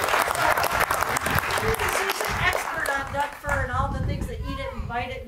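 A conference keynote audience breaks into loud, sustained applause, close and full. Toward the end the clapping thins as a voice begins speaking over it.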